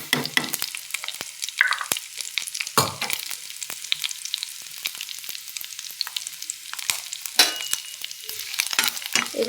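Black cumin seeds and other ingredients frying in hot oil, a steady crackling sizzle broken by stirring scrapes and clattering bursts, close and fairly loud with no talk.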